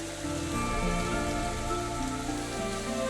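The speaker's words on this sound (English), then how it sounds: "雨まだ降ってる。" Steady rain falls outside a manor at night in Psychedelica of the Black, a continuous even wash of drops at moderate loudness with soft tonal music underneath and no voices.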